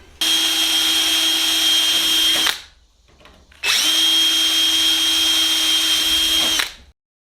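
A power drill bores through pre-drilled pilot holes in a Sonex kit aircraft's aluminum bottom skin into a C-channel, running in two loud, steady whining bursts of about two and a half seconds each, separated by a short pause.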